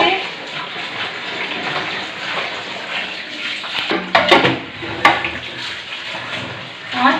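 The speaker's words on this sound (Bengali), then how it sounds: "এবার শাকের ডাঁটা আর আলু ধুয়ে নিচ্ছি।" Leafy vegetable stems and potatoes are washed in water, a continuous close splashing and rinsing with a few sharper knocks and sloshes near the end.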